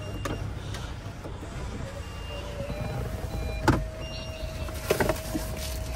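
A sunroof on a 2019 Toyota Land Cruiser Prado opens with a steady, faint electric motor whine inside the cabin, broken by a few clicks and soft knocks.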